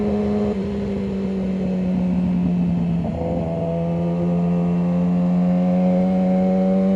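A motorcycle on a highway gives a steady, loud engine drone with a rising pitch as it accelerates, holding close and continuous with no talking.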